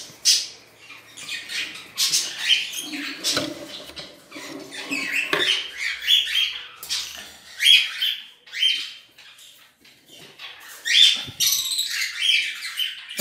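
Caged birds, an opaline male and a lanceolated female, chirp and squawk in quick irregular bursts close by, with faint rustling and pattering between calls.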